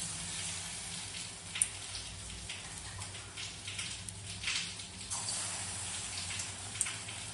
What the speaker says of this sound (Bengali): সেটা ব্যাটারটায় ডুবিয়ে আমি সাদা তেলে ডিপ ফ্রাই করে নেব।